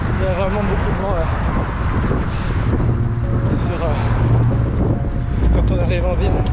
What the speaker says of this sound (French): Il y a vraiment beaucoup de vent là.